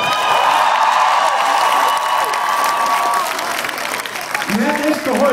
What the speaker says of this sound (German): Den größten Jubel des Tages bitte dafür